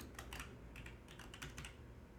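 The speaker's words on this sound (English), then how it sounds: "Pardon my typing." Typing on a computer keyboard to enter a team name in an F1 2020 racing game, several quick clusters of close, crisp key clicks separated by brief pauses.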